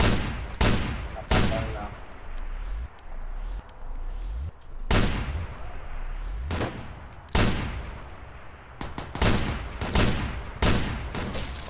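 Heavy video game gunfire, loud repeated bursts and single cracks coming in rapid volleys with short pauses between, close and dominant, with a voice briefly talking underneath.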